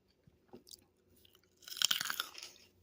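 Crunchy food bitten and chewed close to the mic during home meal planning, a few faint crunches first, then a dense burst of loud crisp crunching that tapers off, with no talk.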